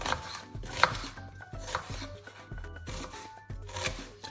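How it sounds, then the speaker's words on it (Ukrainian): A knife chops onion on a cutting board, a run of quick, evenly spaced thuds close up, no talking. "В першу чергу я нарізаю цибулю"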